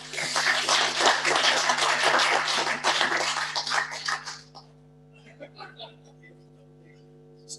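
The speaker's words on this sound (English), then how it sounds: "If we could give him a round of applause." People at a district council meeting applaud an award recipient, a brisk burst of clapping from a modest group that lasts about four seconds and then trails off into a few scattered claps and quiet room sounds.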